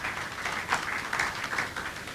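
Seminar audience applauding a panel, a continuous patter of many hands clapping at moderate volume in an indoor hall.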